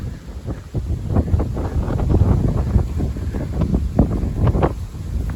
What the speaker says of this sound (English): I don't know why the wind's picking up so much